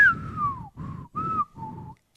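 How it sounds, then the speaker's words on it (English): A person whistles four short notes, the first a long falling glide and the rest shorter steady tones separated by brief pauses, close and clear with no talking. "Can you whistle? Oh, there you can."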